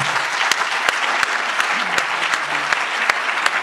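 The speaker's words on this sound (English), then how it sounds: "by giving a big hand of applause." An audience at a U.S.-India friendship summit applauding a speaker, dense steady clapping from a crowd with a few sharp individual claps standing out, loud and sustained throughout.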